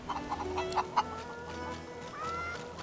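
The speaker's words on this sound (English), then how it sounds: "let's speak with the chickens, since we have pet Paul" Chickens cluck in quick, close, repeated bursts in the Divinity: Original Sin 2 video game, over soft sustained background music with no talking.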